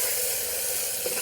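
Potatoes frying in oil with spices in a pot on a clay stove give a steady, close hiss and sizzle that holds evenly for about a second, with no voices over it.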